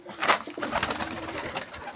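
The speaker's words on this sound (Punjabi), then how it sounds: "ਇੱਕ ਆ ਗਿਆ ਗਾਲੜ ਕਬੂਤਰ ਘੁੰਮਦਾ ਪਿਆ ਦਿਖਾ ਦਾਂ ਤੁਹਾਨੂੰ" A pigeon coos nearby, soft throaty warbling repeated over a couple of seconds with a faint rustle behind it.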